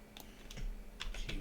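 A handful of sharp computer keyboard key presses, about five quick taps, land close and quiet as shortcuts are entered while modelling in Blender.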